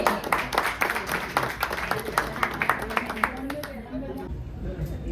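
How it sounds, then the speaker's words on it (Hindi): Scattered clapping from an audience at a foundation day event, sharp uneven claps rising and falling over crowd chatter and voices, fading near the end. "तालियां जोरों से होनी चाहिए।"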